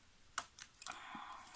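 Scissors snip a small piece of paper for a paper tassel, producing a few sharp, close clicks and crisp cuts in quick, uneven succession in a quiet room.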